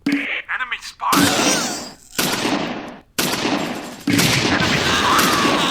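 Sustained gunfire in a war video game battle near a chateau, with loud bursts of rapid shots and booms in several waves, close and dense, with voices barely audible at the start.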